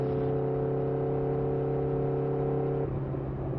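Exhaust of a 1984 Kawasaki GPZ900R motorcycle while riding, a steady engine drone with strong tonal harmonics held at constant pitch, then dropping briefly as the throttle eases, with wind rush underneath.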